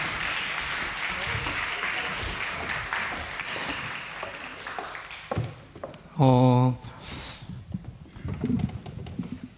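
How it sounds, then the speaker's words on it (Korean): A church congregation claps through a Sunday worship service, a broad wash of applause that fades out, followed by a brief loud tonal burst and then scattered noise with voices. "우리 다시 한 번만 축복의 마음을 담아 큰 소리로 박수로 축복하도록 하겠습니다"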